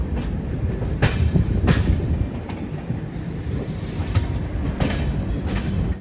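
Train rolling along the tracks past Nizamabad with a loud, steady rumble and periodic clacks as the wheels cross rail joints, heard from inside a carriage of the Visakha Express.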